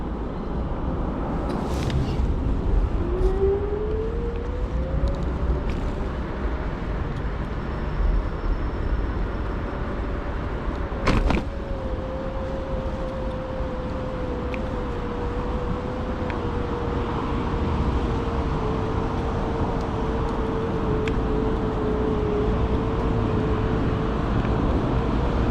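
An NIU KQi 100F electric scooter pulls away from a complete stop and climbs a hill, its motor whine rising in pitch and then holding a steady tone over continuous outdoor wind and road noise, with no talk.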